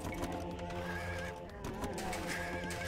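Horses in a strategy video game neigh and whinny over layered battle noise and a steady clip-clop of hooves, the calls fairly loud and recurring within a busy, continuous din.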